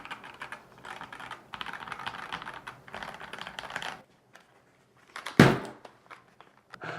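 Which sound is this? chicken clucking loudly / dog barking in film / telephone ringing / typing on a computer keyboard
typing on a computer keyboard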